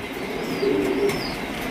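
A male pigeon gives a soft, low cooing call among a pen of breeding pigeon pairs, heard briefly over a steady background hum, with no talking.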